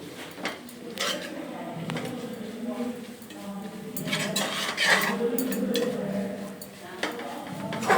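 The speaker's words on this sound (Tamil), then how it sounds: "ஃப்ரெண்ட்ஸ் புதினா கொத்தமல்லி போட்டு இன்னொரு தடவை நல்லா வதக்கிக்கலாம்." Mint and coriander are sautéed in a pan, giving continuous scraping and clattering of a spoon against metal with occasional sharper knocks, close and moderately loud.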